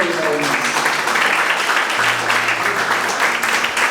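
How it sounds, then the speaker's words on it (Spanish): A congregation applauding during a Spanish-language church service: dense, sustained clapping from a crowd with faint voices mixed in beneath it. "Dale un fuerte aplauso al Señor."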